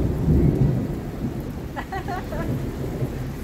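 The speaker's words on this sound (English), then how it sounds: "Thunder." A deep rumble of thunder rolls through steady rain, with a faint chirping bird briefly in the background.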